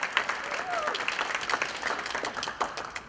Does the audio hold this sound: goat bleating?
no